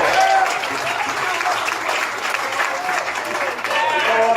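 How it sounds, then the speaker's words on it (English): A congregation claps at a Tuesday night revival service, a full, continuous burst of hand clapping with scattered voices and shouts mixed in across the room. "Just clap your hands one more time."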